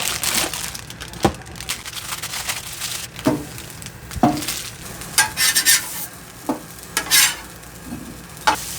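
Food cooking on a Blackstone griddle in an RV setting: a steady sizzle underlies sharp scraping and tapping strokes of a metal spatula at irregular intervals, close and moderately loud.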